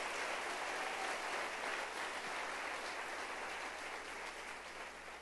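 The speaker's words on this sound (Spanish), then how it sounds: "Denle un aplauso al Rey bendito." A church congregation applauds for the blessed King in a sustained, even wash of clapping that holds steady for several seconds, distant and uniform, then tapers slightly toward the close.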